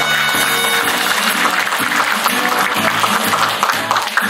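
An audience at a Korean metalworkers' union convention anniversary ceremony gives sustained applause, with dense clapping from a large hall crowd over faint background music.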